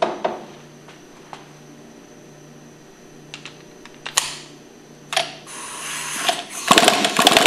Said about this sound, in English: We'll go ahead and remove it with a 5/8 socket.